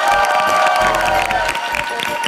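Studio audience at a Vietnamese TV dating show cheers and applauds loudly, a dense roar of clapping and shouting that stays steady for the whole stretch, with a faint voice mixed in.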